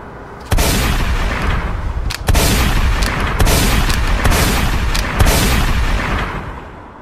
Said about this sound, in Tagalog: Bakit mo binaril?